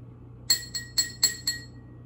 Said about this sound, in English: Be careful when you tap the glass because it is made of glass.